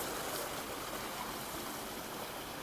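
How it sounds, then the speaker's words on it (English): Keckwick Brook runs high after heavy rain, its water giving a steady, broad rushing wash that stays close and even throughout, with no voices. "I'm going to follow Keckwick Brook down stream and see where this leads"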